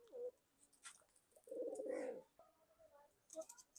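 Pigeons, a running pair of Kamakar birds, give a few soft, throaty coos with faint chirps in between, close by and fairly quiet, with no talking.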